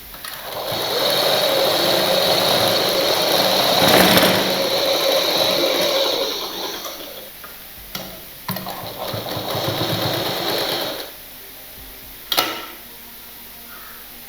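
A sewing machine stitches a blouse seam with a loud, steady whir that runs for several seconds, pauses, then runs again more briefly, ending with a sharp clack.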